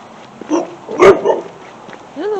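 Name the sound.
dog barking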